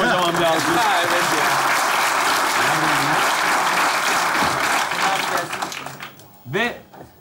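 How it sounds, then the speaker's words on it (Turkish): A large crowd applauds loudly and steadily, the clapping fading out near the end as a voice rises briefly over it. "Onlar için kocaman bir alkış."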